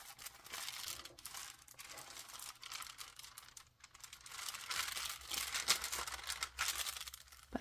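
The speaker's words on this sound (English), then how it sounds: "I love the sound the paper makes" Thin onion skin paper in an ink journal crinkles and rustles softly up close in irregular bursts, with light crisp handling sounds and no talking.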